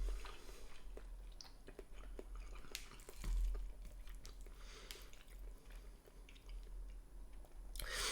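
Close, quiet chewing and slurping of Nissin sesame instant noodles, soft wet squishing bites scattered over several seconds with a low hum beneath.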